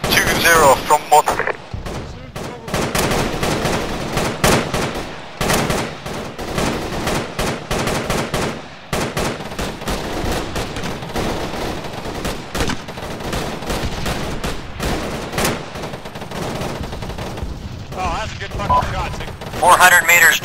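Dense, continuous gunfire from a military tactical shooter game, with rapid cracks and bursts layered into a loud, sustained barrage that runs throughout, while voices speak over the shooting.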